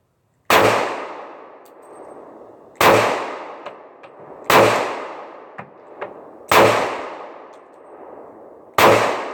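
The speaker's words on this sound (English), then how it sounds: "that was my first time shooting it with the new grip" Five loud, sharp handgun shots from a compact 9mm pistol fitted with a new Hogue Handall grip, fired outdoors at a steady pace roughly two seconds apart, each crack followed by a decaying echo.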